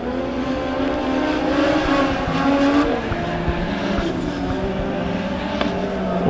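Legend race cars roar around Springfield Raceway during a heat race at the Turkey Bowl, their engines droning loudly and steadily as the pack runs single file, with rising and falling pitch as cars pass.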